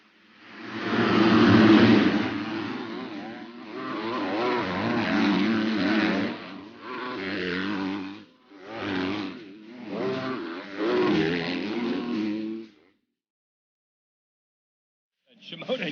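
Yamaha race bikes rev at the starting gate in a series of loud, sustained engine roars, each lasting a second or two with short gaps between, then the revving cuts to silence.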